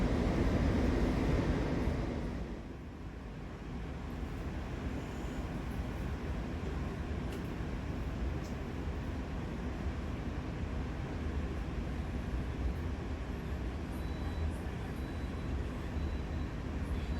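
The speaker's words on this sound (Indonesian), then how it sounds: "KA Gajayana akan diberangkatkan dari stasiun Blitar pada pukul 5:37" KA Gajayana passenger train departing Blitar station, a continuous low rumbling roar with wind-like noise, fairly steady and moderately loud throughout.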